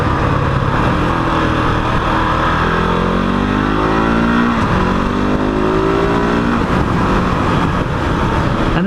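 A KTM 690 Enduro single-cylinder motorcycle revs hard and climbs through quick-shifted gears. The loud, close engine note rises and drops repeatedly with no voices.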